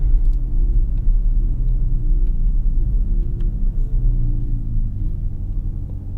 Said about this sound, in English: And there's the engine.